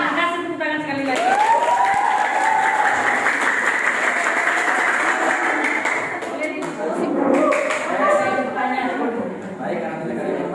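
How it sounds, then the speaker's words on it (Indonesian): An audience in a teacher-training classroom gives steady applause after a presentation. The clapping continues for about ten seconds, with a speaking voice heard over it at the start and again later on. "Kasih tepuk tangan sekali lagi."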